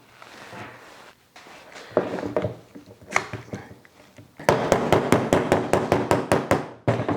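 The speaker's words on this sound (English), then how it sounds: "we cut like a little 2-inch piece here that we're gonna hammer in there just like that" Repeated hammer taps drive a small two-inch wooden end cap into a handmade lamp, a quick run of sharp, evenly spaced knocks at close range following some quieter handling noise.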